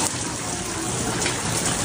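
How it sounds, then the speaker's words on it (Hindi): Heavy rain falls outside a village house, a loud unbroken roar of downpour filling the whole moment, with no voices. "और अभी भी बारिश हो रहा है"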